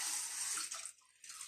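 A measured 1.5 cups of water pours into a pan for pilau rice in a loud, close splashing stream that breaks off and briefly resumes.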